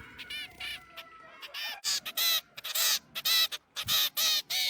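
A young rescued bird, one of a nestling brood saved from a nest collapsed by heavy rain in a tea garden, gives loud, close, repeated harsh calls in quick bursts with short pauses between.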